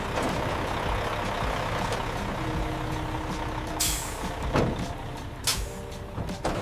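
Trucks loaded with fresh tomatoes arrive at a ketchup factory, a steady engine rumble with hissing air-brake bursts partway through and near the end, no talk.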